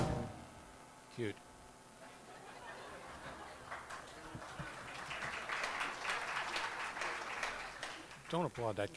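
A jazz club audience applauds at a 1995 piano showcase, the clapping swelling from scattered claps into a dense, moderately loud round, with brief speech at the start and end.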